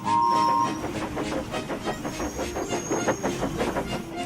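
Three steam engines set off with their trains, giving a steady chugging rhythm with hissing steam and clicking wheels. A short high whistle-like tone sounds at the very start.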